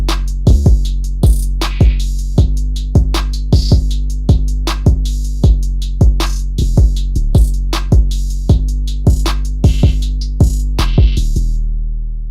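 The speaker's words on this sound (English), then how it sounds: "So now everything in the drum pattern sounds like this so far" FL Studio drum pattern for a trap beat, with a rack kick and soft clipper: loud booming kicks and sharp hits in a steady looping groove, stopping at the end, no voices.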